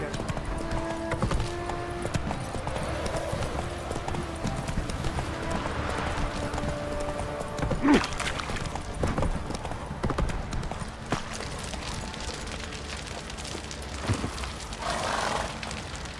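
Horse hooves clip-clop at a walking pace in Witcher III, set in a stable yard, with a low game ambience and a snort or whinny heard in the mix.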